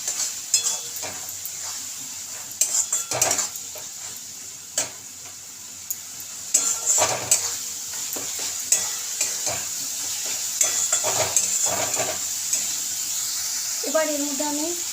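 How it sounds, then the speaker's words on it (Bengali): Cumin and turmeric powder sautéed and stirred in a pan, steady sizzling with repeated scraping strokes and light clinks of the spatula, fairly close, with a brief voice at the end. "এবার মশলাটাকে আমি ভালো করে কষিয়ে নেব"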